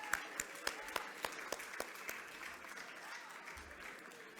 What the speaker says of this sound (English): Let's have a round of applause for Chris and Nick together